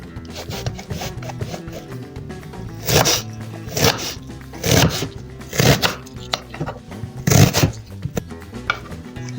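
Knife chopping an onion on a cutting board while preparing chicken mansaf, with a steady run of sharp, close cuts that build into louder bursts near the end.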